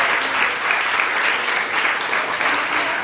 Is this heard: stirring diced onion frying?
no